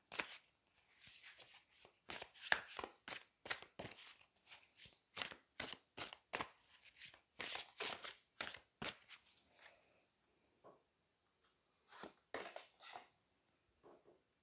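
Tarot cards being shuffled and drawn, a rapid run of crisp flicking riffles and slaps that keeps going for about ten seconds, followed by a few scattered card snaps. Everything sounds close and quiet, and nobody speaks.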